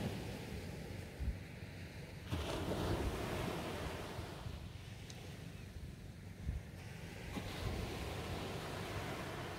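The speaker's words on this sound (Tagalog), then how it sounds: "Humpas lang ang alon." Ocean waves wash and break against a beach-resort shore in steady, rolling surges, with wind buffeting the microphone and swelling louder in a couple of stretches.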